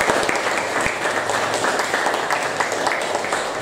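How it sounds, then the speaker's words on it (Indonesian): A classroom of students applauds a classmate, a dense, steady burst of many hands clapping close by for several seconds, with a few sharper individual claps near the start. "Berikan tepuk tangan untuk teman kita."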